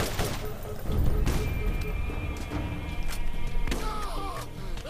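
An enemy midget shotgunner fires in Borderlands with several sharp blasts and thuds, mixed with other game effects at moderate loudness.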